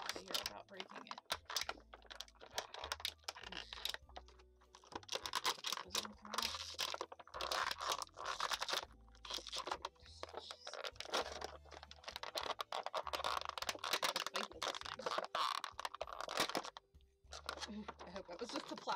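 The plastic container of a Fortnite P-1000 action figure cracks and crinkles during unboxing, with close, irregular snaps and rustles under ongoing talk.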